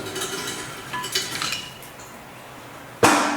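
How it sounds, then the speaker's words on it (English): A brake caliper on a 2020 Chevy 2500HD with a parking brake fault: faint metallic rattles, then one loud, close clunk as it is set down, without speech. "we're going to set the caliper right there"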